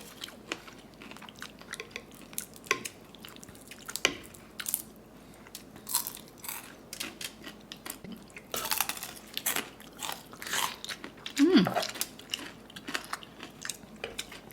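Crispy Filipino lechon being bitten and chewed up close, with repeated crunchy bites and wet chewing noises, and occasional cutlery or dish clinks in between. Nobody speaks.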